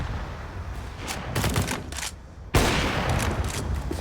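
Gunfire from Counter-Strike during a competitive match on the Overpass map, shot through a wall: bursts of rapid shots crackle, followed by a loud sharp report, with dense game noise throughout.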